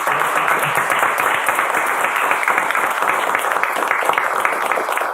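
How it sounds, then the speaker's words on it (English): Sustained, dense applause from a conference audience at a Scrum Bangalore open house, steady and loud throughout with no pauses, a full crowd clapping together. "Yeah, a lot of applause"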